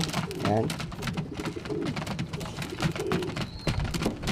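Several pigeons cooing nearby, repeated throaty warbling calls over scattered clatter and rustling.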